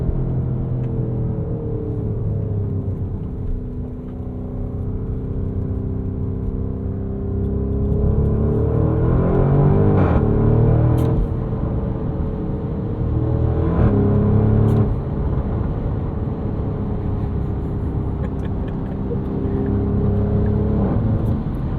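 A 2024 Porsche Cayenne Turbo Coupe with a 729hp hybrid V8 drives along, its engine rumbling steadily and swelling as it accelerates, loud and close with no talk over it.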